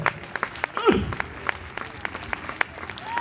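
Audience at an outdoor falconry show in L'Isle Adam gives sparse, scattered claps while someone talks over them, and a short whistle-like sweep rises partway through.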